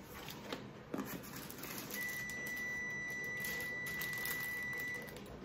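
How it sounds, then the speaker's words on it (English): A kitchen stove beeps with one long, steady electronic tone lasting about three seconds amid faint clatter and room noise while dinner cooks. "don't mind my stove beeping, I'm cooking dinner"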